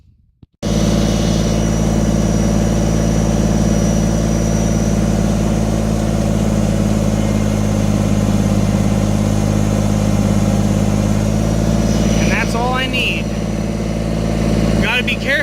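A tractor engine runs steadily at a construction site, a loud, constant low drone with a droning idle character throughout, and a voice briefly cuts in near the end.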